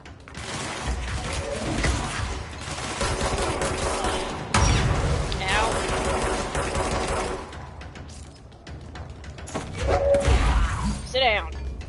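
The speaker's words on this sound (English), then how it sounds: "Stop throwing rockets at me!" Rocket fire and explosions in the video game Control, a loud, continuous run of blasts, thuds and crashing impacts, with voices talking over the combat throughout.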